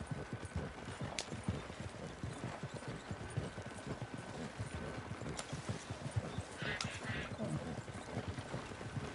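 A horse-drawn wagon rolls along a bad road in the video game Red Dead Redemption 2, with steady, quick clip-clopping hoofbeats throughout and a few faint higher noises over them.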